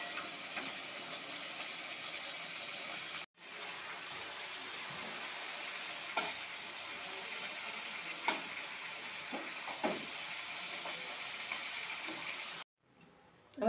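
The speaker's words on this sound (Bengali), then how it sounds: "আমি এখন কুমড়ো গাজর একসাথে ভেজে নিচ্ছি।" Pumpkin and carrot frying together in a pan, a quiet continuous sizzle with a few faint scrapes and taps, broken by two brief silences.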